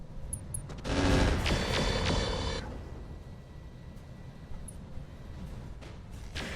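Airstrike in the mech strategy game Roguetech: a loud burst of rattling gunfire and blasts for about two seconds, then quieter scattered impacts and mechanical noises trailing off.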